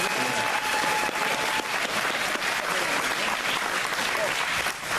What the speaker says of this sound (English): We would like a round of applause for Richard Mack though tonight.